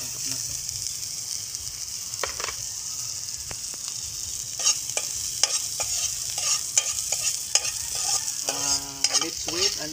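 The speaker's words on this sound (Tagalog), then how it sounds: "Let's wait until the onion will turn into a golden brown." Onions and sea shell ingredients sizzle and fry steadily in a hot pan, with a continuous bright hiss and repeated clinks and scrapes of a utensil stirring close up.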